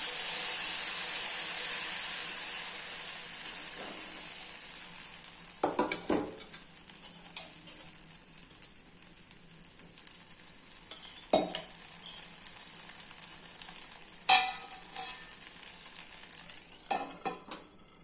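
Batter frying on a hot pan for a tiffin dish, a steady hiss of sizzling that starts strong and settles lower, broken by scattered clinks and scraping from a utensil.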